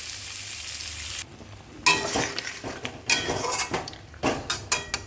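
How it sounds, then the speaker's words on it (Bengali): Mustard paste is strained through a sieve into a simmering fish curry, producing scraping and stirring sounds with short metallic clinks and a soft sizzle, sparse at first, then a run of irregular strokes. "এবার অল্প একটু সর্ষে বাটা, সেটা আমি ছাঁকনিতে ছেঁকে দিয়ে দেবো"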